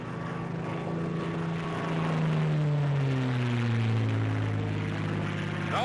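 A World War II fighter plane, a P-40, P-38 or P-51, drones as it pulls out of a dive, its propeller engine loud and continuous, the tone sliding gradually lower.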